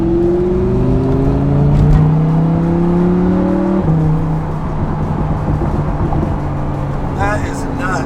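A Lamborghini Aventador's engine revs loudly, the pitch climbing in a strong sweep before cutting off, then settling into a lower rumble, heard close and dominant with a voice briefly over it.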